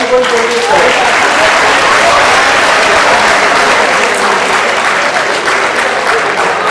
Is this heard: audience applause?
yes